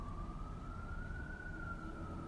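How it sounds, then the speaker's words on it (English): A fire engine siren sounds from outside as a single steady, slowly rising wail over the low rumble of a big engine, moderately loud. "I can hear a big engine, that means it's a fire engine."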